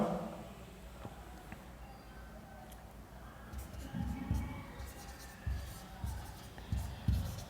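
Chalk or marker writing values on a board in a classroom, soft intermittent scratching strokes in short bursts, quiet and close, with faint room noise in the background.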